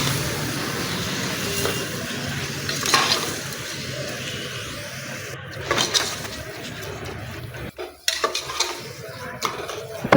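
Tomatoes and mint sauté in a pan with a low, steady sizzle, broken by scrapes and clinks of a spoon stirring against the metal, all close by.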